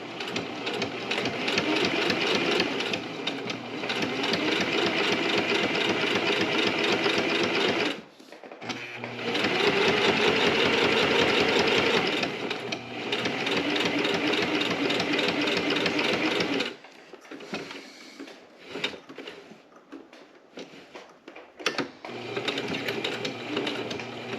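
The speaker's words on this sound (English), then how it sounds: "we're gonna back up the stitching, and that's gonna lock in our stitching. And then we're gonna just follow the line." A sewing machine stitching a three-piece Bible cover runs in long, steady bursts of rapid mechanical chatter, briefly stopping and restarting, with a back-stitch near the start and a few short stops and restarts near the end.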